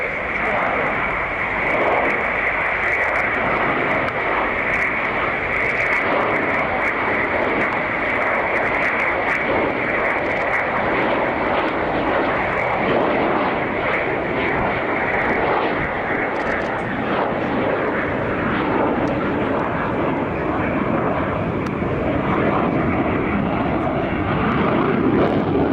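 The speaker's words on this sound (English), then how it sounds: "And now a slow pass with the big dorsal air brake extended." A Su-27 Flanker fighter jet of the Ukrainian Air Force makes a slow pass with its large dorsal air brake extended, a loud sustained engine roar that fills the whole stretch while someone talks over it.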